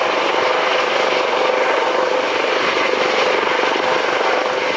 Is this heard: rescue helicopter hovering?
yes